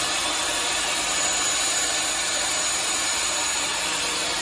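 A Sney pipe threading machine runs steadily while its cutter chamfers the inside edge of a pipe, giving a constant broadband mechanical whir and hiss with no pauses, fairly loud and close throughout.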